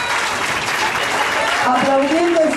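Applause from a crowd at a gay pride march, steady clapping with a voice speaking over it toward the end.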